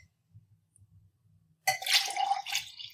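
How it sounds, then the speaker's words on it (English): About 400 millilitres of distilled water poured into a container at home, a sudden close splashing, trickling pour that starts after a near-silent pause and runs steadily to the end. "It's about 400 milliliters of distilled water. And I'm pouring it into this one?"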